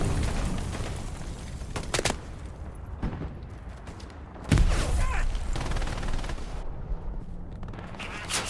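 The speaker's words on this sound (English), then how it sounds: "Satchel goes off over here to the left." A satchel charge explosion in Hell Let Loose on the Juno Beach map: one heavy blast with deep low rumble about halfway through, amid scattered gunshots and constant battle noise.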